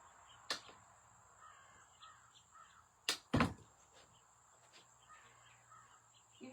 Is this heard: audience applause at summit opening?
no